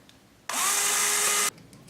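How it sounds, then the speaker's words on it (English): A power drill bores into a deck pan in one steady, loud burst of about a second, whining at constant speed before cutting off abruptly. "And we'll drill this one."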